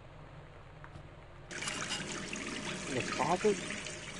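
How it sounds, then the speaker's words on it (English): A tap in the video game Gone Home starts running water with a sudden hissing onset midway and keeps pouring steadily, moderately loud, while a person briefly talks over it. "I'm just gonna leave that water on."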